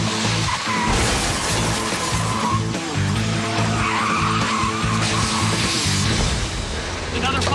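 Cars skid and crash in a freeway pile-up on the 405, with loud continuous tire squeal and engine roar plus crunching impacts and shattering, while a voice talks over the din.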